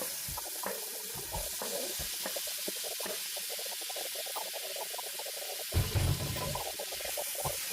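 Chopped tomato hitting hot oil in a pan, a steady close hiss and crackle with scattered pops, swelling into a louder sizzling burst partway through as the pieces settle and fry.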